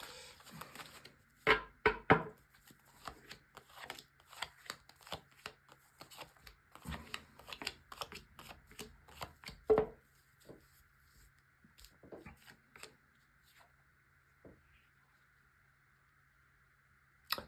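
Tarot cards are shuffled and laid down one by one, making soft close slaps, flicks and sliding scrapes in irregular clusters, with a faint steady hum behind them.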